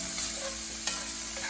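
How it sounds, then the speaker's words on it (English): Bacon rendering in a pan for grilled cheese, a dense continuous sizzle with light scraping and stirring clicks close up. "You're going to render that bacon down until it's delicious and crispy"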